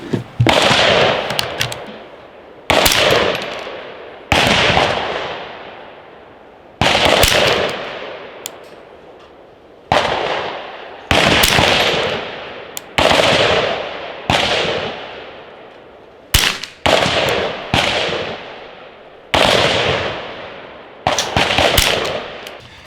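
Norma Tac 22 high-performance .22 target rounds fired from a Volquartsen 10/22 rifle: about fifteen sharp, loud cracks at irregular intervals, some close pairs, each trailing off in a ringing outdoor echo.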